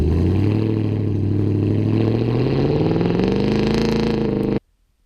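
Toyota Tundra exhaust heard from outside the truck while off-roading, a loud rumbling engine note that climbs in pitch as it revs, then cuts off abruptly into silence.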